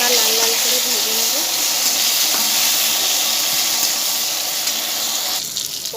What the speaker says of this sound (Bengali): পটলগুলো হালকা লাল লাল করে ভেজে নেব